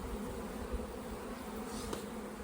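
Young honey bees, freshly shaken into a hive in a bee yard, give a steady, faint buzzing hum throughout, close by and even, with little sign of flight or other sound.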